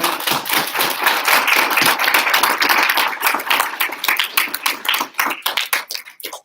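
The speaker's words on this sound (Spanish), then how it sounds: "Un aplauso, hermanos, por favor." A church congregation claps during a Sunday morning service, a crisp, quick patter of many hands that holds steady, then thins into scattered individual claps and stops.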